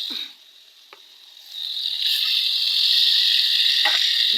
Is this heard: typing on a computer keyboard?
no